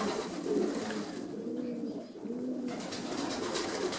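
Pigeons coo softly and repeatedly in an enclosed loft holding hens, several low murmuring calls overlapping at close range with no talking.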